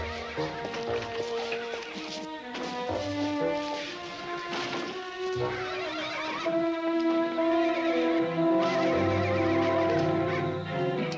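Horses in a stall whinny and neigh repeatedly amid other animal calls, loud, close, overlapping cries rising and falling over several seconds, with no talking.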